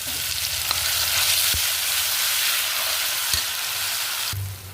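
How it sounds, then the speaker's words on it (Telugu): Onion and garlic paste frying in hot oil with a mustard-seed and cumin tempering, a loud continuous sizzle close up with a few sharp spoon knocks against the pan and no voices. "ఇది ఉంది కదండి ఉల్లిగడ్డ ఎల్లిపాయ ఎల్లిగడ్డ ముద్ద పోపులో వేసుకుంటాం"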